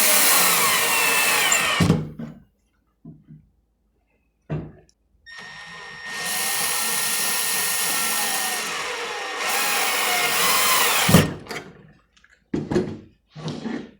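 Power drill driving 3/4 inch screws through an electrical junction box into plywood, several whirring bursts of a few seconds each separated by pauses, with short clunks near the end, close and fairly loud.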